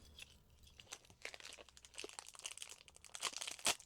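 Plastic packaging for yard decorations being cut open at close range, a scattered run of crinkling, crunching and snipping sounds that grows busier and louder toward the end, with no talking.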